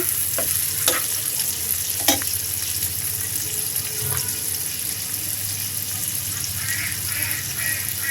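Prawns frying in a pan, a continuous loud sizzle with occasional stirring clinks and scrapes, close up and steady throughout.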